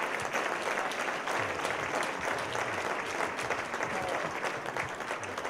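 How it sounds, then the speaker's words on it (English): A crowd at an athletics hall of fame induction gives a steady round of applause, even and continuous, heard at a moderate distance. "I'd like to give Dan Odom a nice round of applause"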